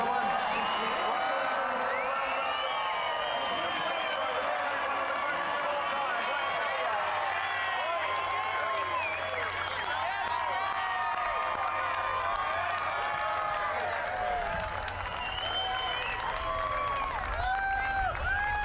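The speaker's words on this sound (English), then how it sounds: "This may be the last time the Sydney crowd gets to cheer her home." A Sydney racecourse crowd roars and cheers steadily as Black Caviar runs her final race, a dense, sustained wall of whoops and shouts with a broadcaster's voice talking over it.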